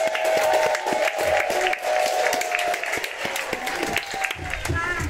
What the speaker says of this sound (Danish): giv de 2 herrer et kæmpe applaus